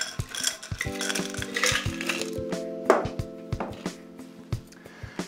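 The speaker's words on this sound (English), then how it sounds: "Then you want to fill a highball with ice." Ice cubes clink and rattle into a highball glass while a strawberry gin fizz is being made, a string of close, bright knocks and tinkles in irregular bursts over a soft background.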